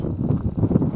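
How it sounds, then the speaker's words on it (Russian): Strong wind buffeting the microphone in low, uneven gusts and rumbles for about a second, outdoors in snow by a river. "Сильный ветер. Ветер очень сильный."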